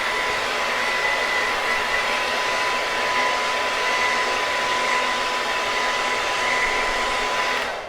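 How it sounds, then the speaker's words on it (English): A pink blow dryer runs steadily and close while drying and brushing hair for a 1973 Elvis Presley style, giving a continuous loud whoosh with a faint whine for the whole stretch, no voices over it. "I hope you like my pretty pink blow dryer."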